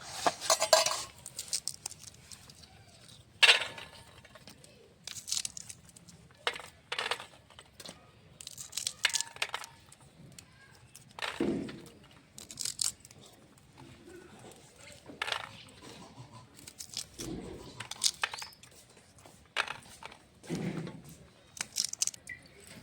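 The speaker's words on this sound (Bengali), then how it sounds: "মটরশুঁটিগুলো ছিলে নেব" Green peas being shelled by hand at home for a boiled winter vegetable dish, giving scattered light clicks and small clinks of pods and peas against a bowl, close and sparse, with quiet pauses between.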